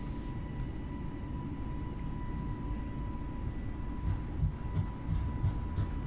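Airliner engines spool up to takeoff thrust in a Microsoft Flight Simulator flight from Cairo, heard as a steady broadband roar with a thin constant tone. A few soft clicks come in near the end, and nobody speaks.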